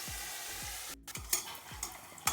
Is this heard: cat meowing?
no